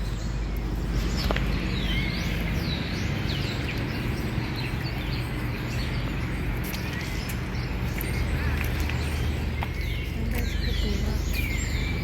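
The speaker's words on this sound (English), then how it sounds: "The birds in here are just incredibly loud." Birds in a park in Almeria, Spain, keep up loud, busy chirping and calling over a constant outdoor hum, with faint footsteps and people talking beneath.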